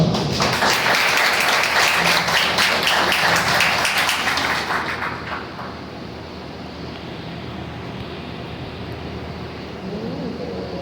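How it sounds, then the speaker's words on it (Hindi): A gathered audience at a religious gathering bursts into brisk clapping for about five seconds, then the applause dies away into a quieter, murmuring room tone. "आपकी भरपूर तालियों के साथ"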